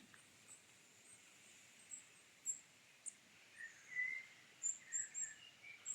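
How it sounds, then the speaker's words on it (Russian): Birds sing on a cool summer evening in a Belarusian village, scattered high chirps and short whistled calls over a soft insect hum, faint and at a distance. "О, птицы."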